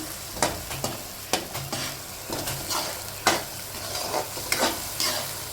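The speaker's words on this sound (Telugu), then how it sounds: "ఇట్లా కలుపుకుండాలి, ఫ్రై అవుతుంది బాగా." Fish curry masala frying in a pan while a spatula stirs it, with repeated scraping strokes over a continuous close sizzle and no voices.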